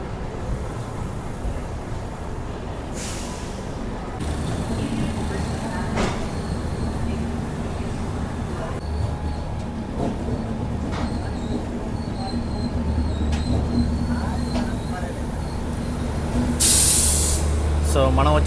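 The Padmavati SF Express pulling out of Tirupati station, a continuous rumble of rolling wheels and carriage noise building gradually, with a brief hiss near the end.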